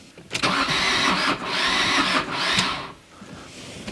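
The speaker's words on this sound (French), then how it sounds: "j'aime pas du tout ces bruits de démarreur qui a du mal là" A worn starter motor strains to crank a used engine, a loud labored whirring in three surging bursts with brief dips between, close up and with no talk.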